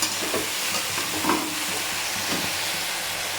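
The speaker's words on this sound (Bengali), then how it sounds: "দিয়ে ভালো করে আমি এই যে মশলার সাথে লতির সাথে কষিয়ে নেব ভালো করে" Taro stems fry with spices in a pan, a dense, constant sizzle close up with occasional soft scrapes and bumps of stirring underneath, steady throughout and without talk.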